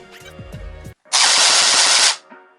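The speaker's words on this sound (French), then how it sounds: "On appuie sur la gâchette. Et ça tire en rafale." An M4 airsoft rifle fires a sustained full-auto burst of rapid, loud clicking shots lasting about a second, preceded by quieter mechanical handling noises and followed by a brief tail.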